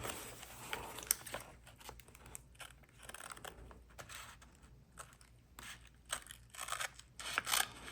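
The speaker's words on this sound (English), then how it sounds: "And then I can just go ahead and cut this off." Tape being snipped off with scissors while decorating a paper planner, a few close, soft cuts and crinkles at a quiet level, with a sharper burst near the end.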